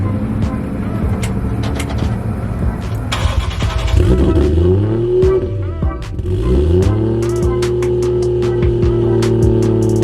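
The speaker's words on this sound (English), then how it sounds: "start this bad boy up and see if this turbo was worth it" A turbocharged Toyota Supra engine starts and revs, rising and falling in several bursts before settling to a steady, slightly high idle, close and loud.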